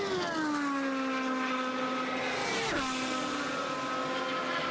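A Herbalife IndyCar driven by Townsend Bell screams past at full speed during Indianapolis 500 pole day qualifying in 2010, its high engine whine sliding down in pitch as it passes, loud and steady.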